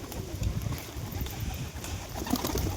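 Pigeons cooing at a market selling local crested pigeons, a steady low murmur of birds throughout with occasional rustles and wing sounds nearby.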